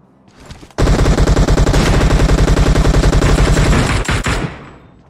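M24 sniper rifle and automatic weapons fire in PUBG Mobile: a loud, sustained burst of rapid automatic shots that stutters briefly near the end, with no talk.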